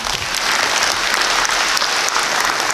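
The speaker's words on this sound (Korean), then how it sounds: "다시 한번 큰 박수 부탁드립니다" An audience at a union members' education session breaks into loud, sustained applause, dense clapping filling the room from start to finish.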